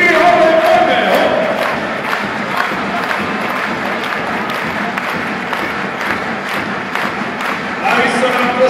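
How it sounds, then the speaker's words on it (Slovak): Arena crowd at a Prešov versus Magdeburg handball match clapping along during team introductions, a dense steady wash of many hands and voices filling the hall, with cheers swelling near the end. "A poďme s nami, zatleskáme si trochu."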